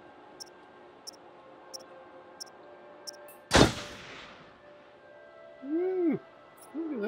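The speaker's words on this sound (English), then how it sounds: "Master at shooting objects on the screen." A single loud, sharp gunshot from the Until Dawn video game cracks out midway and decays quickly. It follows a row of faint, evenly spaced ticks, and a short whooshing tone comes afterward.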